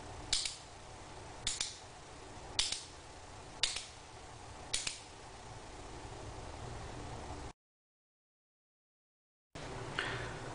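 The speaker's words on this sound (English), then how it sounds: "every time you cock it, it advances the 10-shot magazine one shot" AirWolf air rifle being cocked five times in a steady rhythm, each stroke a sharp close mechanical click-clack as the 10-shot magazine advances, over a low background hiss, then a brief silence and one more click.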